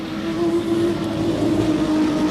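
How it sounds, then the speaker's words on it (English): A 1994 Eurocar V6 racing car on an oval track, its engine droning steadily with a slightly uneven, misfiring note, continuous and fairly loud throughout with no voices. "car, which sounds as though it's misfiring slightly"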